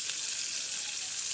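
A hot pan on a clay stove, where fish was fried before the cauliflower goes in, hisses evenly and softly throughout with no other sounds.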